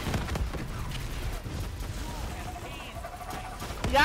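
Gunfire in Call of Duty: Black Ops III zombies mode, a steady rattle of shots mixed with game effects and bursts of noise, with players talking over it and a louder burst at the end.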